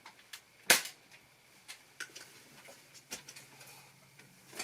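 A Nerf gun fires a single sharp snapping shot at SpongeBob trading cards, followed by faint scattered ticks and taps, quiet and close with no talk.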